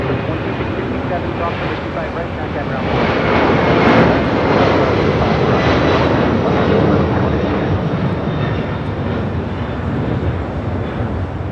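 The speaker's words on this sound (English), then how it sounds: "This is Skylease Cargo 4873 taking off to Shaman on a 747-400 freighter." A Boeing 747-400 freighter jet taking off at Los Angeles airport, a loud broad engine roar that swells and holds steady, with a voice talking over it.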